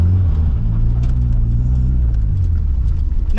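An engine idling roughly inside a big shop, a loud, close, continuous low rumble with an uneven, slightly wavering throb and no voices.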